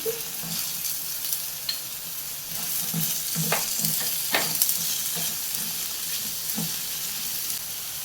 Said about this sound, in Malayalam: ഇനി നമുക്കിതിലേക്ക് വേവിച്ച് വെച്ചിരിക്കുന്ന കടല ചേർത്ത് കൊടുക്കാം.